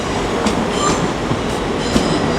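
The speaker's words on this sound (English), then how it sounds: "there goes 195102 with a northern service to Manchester Victoria" Northern train 195102 passes through Leeds station with rhythmic wheel clicks over rail joints and a steady rolling rumble, heard close and fairly loud throughout the short moment.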